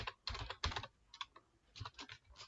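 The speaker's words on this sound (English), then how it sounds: "So I just type get params" Someone types on a computer keyboard in short quiet bursts of quick keystrokes, with brief pauses between them.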